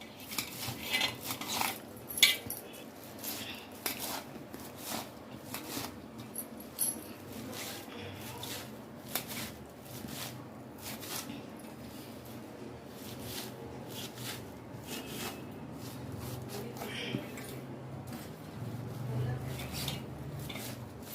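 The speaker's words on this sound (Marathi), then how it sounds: "जेवढी बारीक चिरता येईल तेवढी आपण चिरून घेणार आहोत" Fenugreek being finely chopped with a knife on a board for methi parathas, a steady run of quick, light taps throughout, with some faint talk under it.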